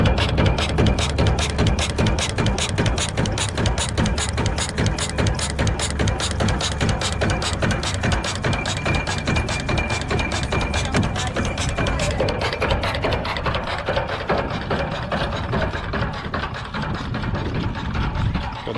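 Several old stationary engines running together at a small-town engine show, a steady dense chugging and rumble that stays loud and continuous throughout with no voices.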